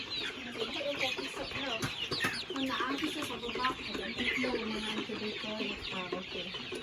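Brown egg-laying chickens on a high mountain farm in the Philippines cluck continuously in a dense flock chorus, moderately close, with occasional louder squawks.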